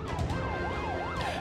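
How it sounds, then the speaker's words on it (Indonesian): A warning siren on a fisheries patrol boat at sea in the North Natuna Sea wails in a steady rising and falling cycle, loud and continuous. "Raungan sirine peringatan dibunyikan petugas Kementerian Kelautan dan Perikanan saat memergoki kapal pencuri ikan di"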